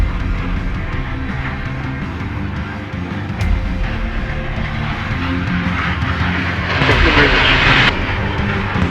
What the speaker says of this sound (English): The sleek and agile fighter jet maneuvers with precision and agility